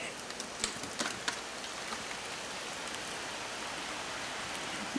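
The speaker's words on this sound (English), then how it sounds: "It's raining." Rain pattering steadily on surfaces outdoors, a dense even hiss with a few louder drops near the start, close and continuous without any talking.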